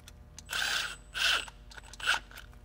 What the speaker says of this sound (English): we're just going to put our hose clamps in place and tighten them